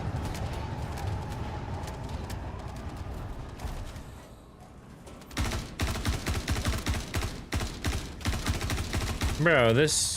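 Bursts of rapid gunfire from a gun in a video game, with recoil, crackle in clustered volleys under steady gameplay noise and occasional talk, thinning out briefly in the middle before resuming loudly.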